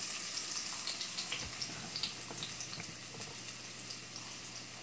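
Hash dropped into a skillet of hot oil gives a steady, hissing sizzle with small crackles and pops, close and moderately loud, with no voices.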